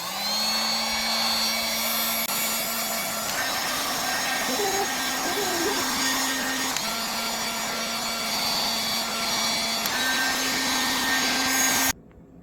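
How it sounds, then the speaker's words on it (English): A heat gun blows a steady, loud whine and airy roar over flat black paint drying on a wheel, running continuously for about twelve seconds before cutting off abruptly at the end. "now I'm going to speed up the drying process with the heat gun"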